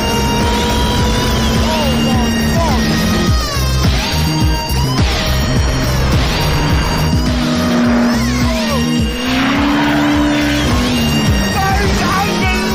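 A very fast car accelerating hard, loud and continuous with engine roar rising in pitch, tire noise and someone speaking over it throughout.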